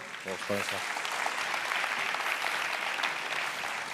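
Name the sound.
audience applause for the speaker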